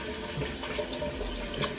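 Water runs and splashes from a bathroom faucet as it is scooped onto a face, a steady close hiss with small splashy bursts and no speech.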